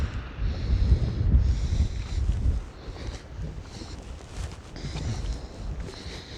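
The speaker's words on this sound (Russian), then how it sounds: "Сейчас подул сильный ветер." A strong wind gusts along the seaside promenade at Arkhipo-Osipovka on an overcast, snowy day. The rumbling buffets swell and fade in uneven surges against the microphone.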